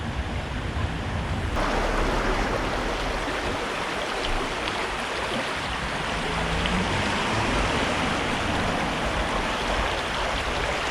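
A brook at Hebden Bridge flows in a steady, dense rush of running water, loud and continuous throughout with no voices.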